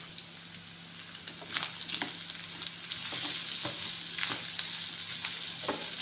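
Onions with garam masala frying in a pan: a steady close sizzle with scattered crackles and pops and occasional stirring scrapes, loudness swelling as it goes.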